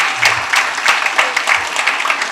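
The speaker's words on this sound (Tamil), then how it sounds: "இன்னொரு முறை கைத்தட்டலாம்" An audience at a Tamil-language stage program in Chennai applauds in a brisk, continuous burst of clapping with uneven individual claps standing out.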